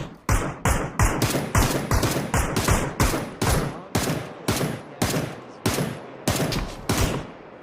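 Rapid single gunshots in PUBG on the Miramar desert map, about a dozen sharp, loud cracks in an irregular rhythm, close and dry, with no speech over them.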